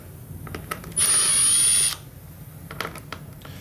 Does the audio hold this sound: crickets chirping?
no